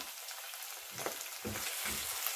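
Chicken hearts and gizzards hit a pan of onion that has just started to soften, setting off a steady close sizzle that swells in three louder bursts as the pieces go in and are moved around. No talking.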